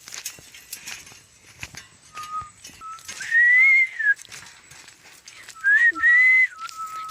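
A person whistles outdoors in a village groundnut field: a few faint short notes at first, then two loud, sustained, wavering whistles, with occasional thuds and ambient noise between.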